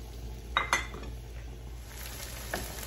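Chopped onions brown in olive oil in a pot over high heat, a soft steady sizzle running underneath a couple of sharp metallic clinks from a utensil against the pot.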